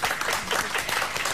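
Audience applause at a stage appearance, a dense burst of clapping from a crowd that stays loud and steady for a moment, with no voices standing out.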